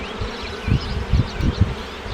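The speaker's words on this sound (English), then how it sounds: "I love seeing the bees hatching." Honey bees buzz steadily inside an open beehive being checked for American foulbrood, a dense close hum with soft thumps and rustles underneath.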